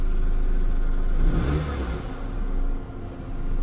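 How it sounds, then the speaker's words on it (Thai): A car engine on an LPG gas conversion revs up to about 1500 rpm, rising in a loud, close drone before easing back down toward idle. "เดี๋ยวเราเร่ง พันห้าร้อยรอบ มันก็จะตัดมาเป็นแก๊สนะครับ"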